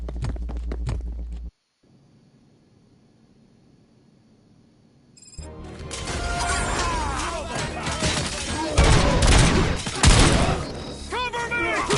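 Heavy, dense gunfire erupts in the shooter game Robocop Rogue City after a quiet stretch, with rapid overlapping shots and impacts that stay loud and sustained to the end, following a brief burst of noise at the start.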